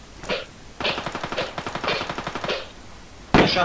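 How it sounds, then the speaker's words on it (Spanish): Bursts of automatic gunfire from the video game Ring of Elysium: a short burst, then a long rapid string of shots, and a loud final burst, with no talking. "Están disparando, están disparando"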